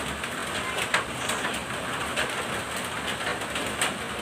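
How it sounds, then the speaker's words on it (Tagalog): Heavy rain pouring down during a typhoon, a steady dense hiss of falling water with a few sharper drop hits, no talking. "Bali malakas kasi ang ulan, nag-uulan ngayon, may bagyo"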